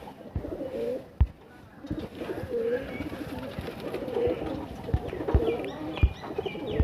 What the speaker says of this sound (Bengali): রেগদার নর পায়রা